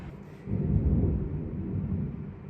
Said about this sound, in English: It's a lightning storm at that.